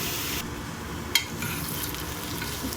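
Whole spices including bay leaf, stone flower and star anise fry in hot oil for mutton keema, giving a dense, steady sizzle close by, with one sharp clink of a utensil partway through.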